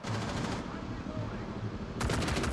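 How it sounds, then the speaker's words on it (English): Rapid bursts of automatic gunfire rattle continuously, loud and dense, with a brief shift in intensity partway through, in the shooter game Rainbow Six Siege. "A lot of gunfire happening"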